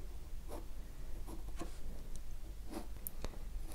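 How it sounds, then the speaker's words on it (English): A pen sketching a hat on paper, soft scratchy strokes and short taps coming in quick irregular bursts, faint and close. "let's draw this nice red hat"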